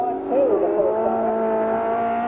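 Race car at Columbus Motor Speedway, Ohio, in 1987, droning steadily past with a sustained engine note that dips and rises once, partly under a track announcer's voice.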